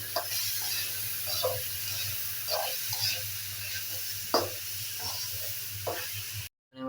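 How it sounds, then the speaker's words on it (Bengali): Raw rice being fried in a pan for chicken biryani gives a steady, close sizzle broken by repeated scraping stirs, then cuts off abruptly near the end. "এর মধ্যে এখন চালটা দিয়ে দিচ্ছি, চালটাকে ভালোভাবে ভেজে নিব।"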